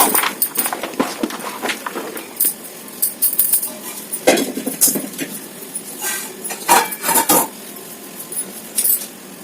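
A spoon stirs coriander into food in a bowl, clinking and scraping against the dish in irregular bursts, close and fairly loud.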